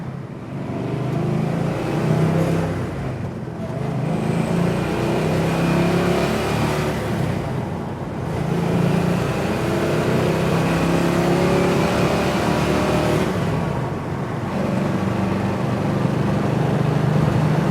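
A vintage Ford Mustang accelerates on a test drive, its engine rising and pulling hard in long surges with brief dips between gear changes, loud and close with no talk.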